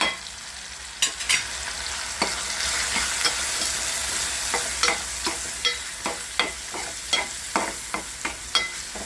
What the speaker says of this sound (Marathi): टमॅटो भाजून घ्यायचं टमॅटो भाजताना आपले हे जे सगळे मसाले आहेत ते पहिले ॲड करायचे